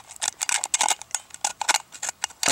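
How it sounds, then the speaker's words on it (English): Metal snips cut slots into a tin can, a rapid run of close, sharp crunching snips, about a dozen bites in quick rhythm, heard alone. "using the snips, we want to cut this can"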